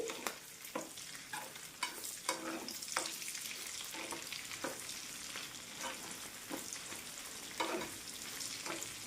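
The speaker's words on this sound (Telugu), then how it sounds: "ఈ రొయ్యలు అనేవి నూనెలో బాగా వేపుకోవాలి" Dried prawns frying in oil for a pickle, stirred in the pan: a soft, continuous sizzle with regular scraping strokes of the spatula, fairly quiet and close, no voices.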